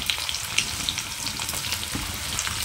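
Chopped onion and green chilies go into hot oil with browned garlic cloves, giving a steady close sizzle with faint crackles and light stirring, no voices.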